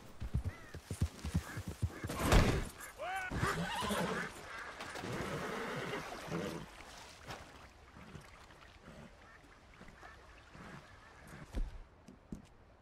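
A horse in the video game Red Dead Redemption 2 lets out loud neighs and whinnies, the strongest burst early on, mixed with hoof clip-clops and scattered thuds that fade to quieter movement later.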